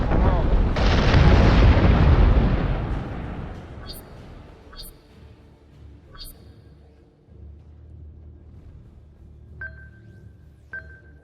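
Missiles explode in the space combat game Battlestar Galactica Deadlock, a heavy rumbling roar that fades over a few seconds, then sharp electronic pings and beeps, with a voice speaking over the action.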